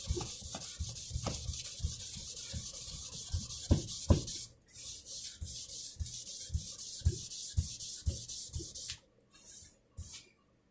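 A guitar body's finish is hand-sanded with sandpaper on a pad, making steady rhythmic scrubbing strokes, close and continuous, with a few brief pauses near the end.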